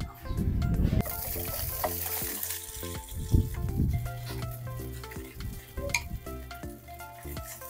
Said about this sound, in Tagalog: bubusayin na po natin yung hinimay na tinapa